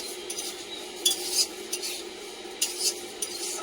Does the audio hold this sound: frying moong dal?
yes